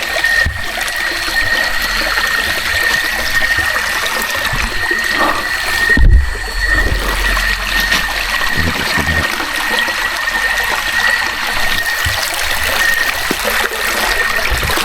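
River water flows in a steady, full rush that runs unbroken throughout, with no talking.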